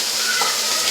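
A dense, steady hiss of tadka spices sizzling in hot oil for a paneer gravy, close and continuous for a short moment.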